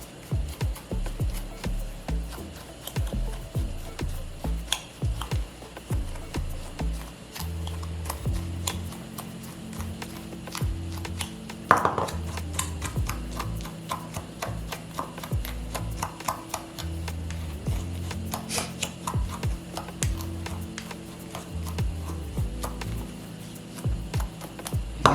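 A small spoon stirs seafood boil seasonings in a pot, giving steady scraping, tapping and clicking that runs unbroken for about 25 seconds at moderate level, with no talking.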